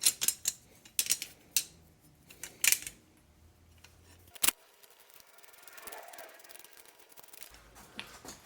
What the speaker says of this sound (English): We take the handle end, thread it back into the tool.